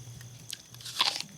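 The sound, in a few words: biting crunchily into an apple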